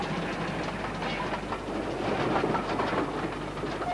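A 1960 steam train, double-headed, works a mountain railway line in the Cambrian Mountains, giving a steady, loud rumble of rolling wagons and engine noise without pause.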